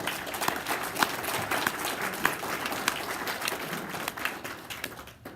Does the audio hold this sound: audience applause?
yes